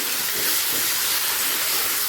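Chopped tomatoes fry with onion in a pan for a light chicken curry, giving a loud, dense, continuous sizzle close by, with no talking.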